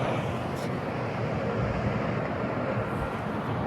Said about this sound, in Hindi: ये सामने का मेट्रो है